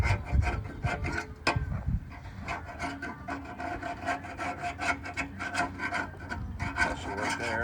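An old papery gasket being scraped off a metal oil pan, producing steady rough rasping strokes up close, with a few heavier knocks at the start before the scraping settles into a continuous rhythm.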